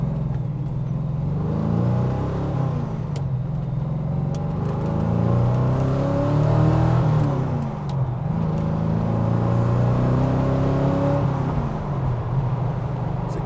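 GT40 Tornado with a V8 engine mounted close behind the cabin, heard as a continuous low exhaust drone from inside the car while driving, with rising and falling pitch sweeps as it revs and changes gear, loud and steady, with no talking.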